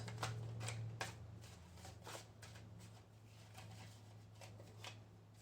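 Tarot cards riffled and shuffled in a quiet room, a series of soft papery slaps and flutters at an uneven rhythm, close and faint over a low steady hum.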